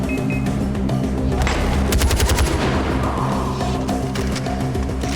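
Video game gunfire: rapid bursts of automatic weapons fire, loud and close, with a vehicle engine rumbling underneath and no speech.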